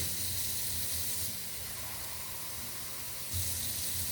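Water runs from a tap in a steady hiss, briefly lowering in the middle before returning full strength near the end.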